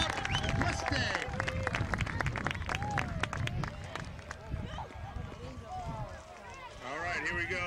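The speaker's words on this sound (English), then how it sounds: "let's get a round of applause for our Bronco division" At an opening-day Pony baseball ceremony, an outdoor crowd claps and cheers for the Bronco division, a dense patter of applause mixed with children's voices and a speaker talking over it.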